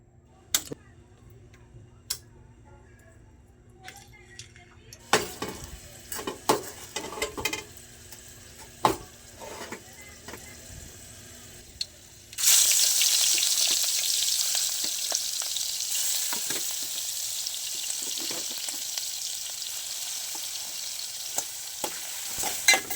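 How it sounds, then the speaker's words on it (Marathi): Garlic drops into hot ghee and oil and fries while being stirred for a Konkan clam curry: scattered clicks and utensil taps at first, then a sudden loud, steady sizzle that continues close and bright, with spoon scrapes over it. "तुपात तेल टाकलं आहे, त्यात लसूण टाकूया आता."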